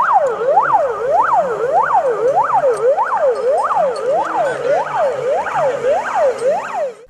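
A loud, close ambulance siren wailing in a fast, regular up-and-down sweep, repeating about a dozen cycles without pause as it comes to a house-fire rescue scene, with faint traffic rumble beneath.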